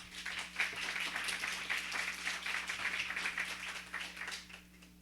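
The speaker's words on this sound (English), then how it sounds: "So please give them an applause again." Audience applause at a 75th anniversary celebration for a library's Friends group, a soft, steady patter of many hands clapping at a distance that fades slightly toward the end.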